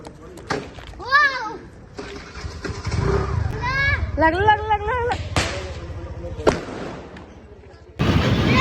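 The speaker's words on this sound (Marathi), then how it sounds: "आता फटाके वाजून झाले" Several sharp firecracker bangs burst at irregular intervals, some far and some near, while children talk and shout throughout.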